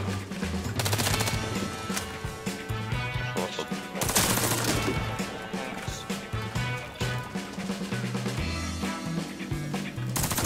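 Rapid bursts of KAC PDW submachine gun fire in the online shooter Warface, loud and dense over thumping game music, with repeated volleys across the whole stretch and no talk.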